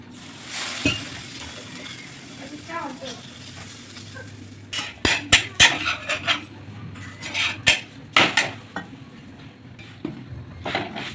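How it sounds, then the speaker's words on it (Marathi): A bajra bhakri flatbread goes onto a hot griddle among kitchen clatter, with sharp clinks and taps of utensils and a soft sizzle, near and moderately loud under occasional speech. "भाकरी झालेली आहे आता तळीवर टाकून घेऊया"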